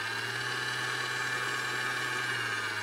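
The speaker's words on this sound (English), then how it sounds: "Give it a good whisk." An electric mixer fitted with a whisk attachment beats a goat's cheese cheesecake mixture, giving off a steady, fairly quiet whirring hum with no breaks and no talking.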